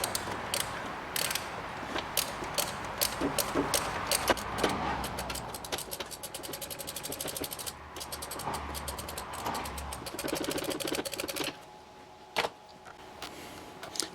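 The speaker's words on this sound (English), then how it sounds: "Put it on my ratchet." A hand ratchet clicks repeatedly as it turns a bolt on the cylinder head of an Opel Astra in a garage, a busy metallic ratcheting that runs for most of the clip before easing off near the end.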